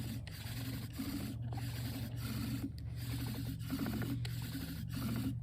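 Bow drill spindle rubbing back and forth on a fire board, a rhythmic rasping scrape in steady strokes with brief pauses at each reversal, close and continuous with no talking.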